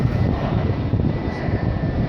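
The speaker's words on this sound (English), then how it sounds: "I can hear another airplane." A Cebu Pacific airliner passes overhead while planes are spotted in Manila, giving a loud, steady engine roar that holds evenly throughout with no voices.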